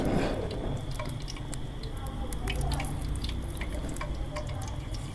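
Pakoras sizzle and crackle in hot ghee, a dense, close bubbling and spitting that begins with a burst as the batter drops in, with no talk.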